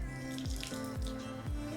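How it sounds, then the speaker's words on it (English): Water dripping and trickling into a bucket from a wrung-out towel used to decontaminate a filthy car, a few distinct plopping drips over a steady splashing trickle, close and fairly loud. "we want to once again wring out this towel and then rinse it in clear water"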